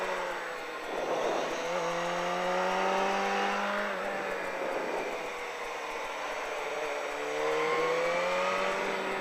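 A car on a race track accelerates hard from close by. The engine pitch climbs, drops between shifts and climbs again in repeated rising sweeps, loud and steady throughout.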